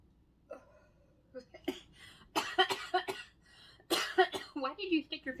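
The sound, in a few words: coughing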